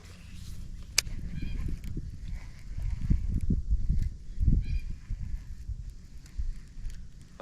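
Cormorants calling outdoors with low, guttural honking grunts in irregular bursts, fairly close, over a steady background rumble.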